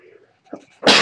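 A single loud, explosive sneeze bursts out at the end after a short stretch of quiet voices and a soft inhaled build-up, close and sharp.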